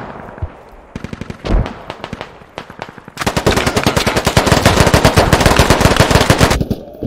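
Automatic gunfire in a military shooter game: a few scattered shots, then a long, loud, continuous stream of rapid rounds that cuts off near the end.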